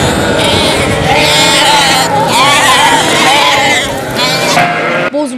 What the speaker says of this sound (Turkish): sesi sayesinde yüzlerce koyun arasından annelerini buluyor